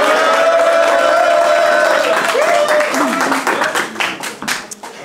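Audience applause and cheering ring out from a crowd at a French live show as a performer is welcomed on, with voices mixed in; the clapping is loud and steady at first, then thins and fades toward the end.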